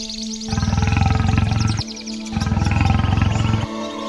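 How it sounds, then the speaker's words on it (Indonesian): A man-eating lion or tiger lets out two long, deep, rumbling roars separated by a brief pause, loud and close, each lasting over a second. "Aku yakin itu singa atau harimau pemangsa manusia."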